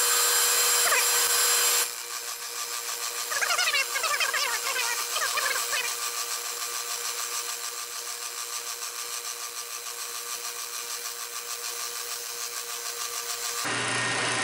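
A steady machine whir runs as a wooden spoke from a 1929 Willys Whippet wheel is turned on a lathe, with a louder burst at the start and brief scraping bits early on, no talking.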